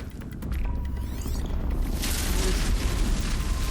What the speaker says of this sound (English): hitting the fuel sack would also be a good idea because it's going to cause an explosion